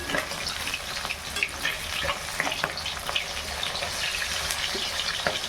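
Food frying in hot oil spatters and crackles steadily, with sharp pops and sputters breaking through a continuous close sizzle.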